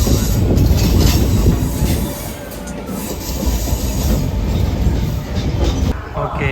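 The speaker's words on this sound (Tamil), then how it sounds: "ட்ரெயின் இங்கே இருக்குது ஸ்டேஷன், அப்படியே கண்ணு முன்னாடியே போகுது." A train rolls past close by at a Chennai railway station, its loud, continuous rumble and wheel noise steady throughout, with faint metallic squeals and rhythmic clatter over the rails.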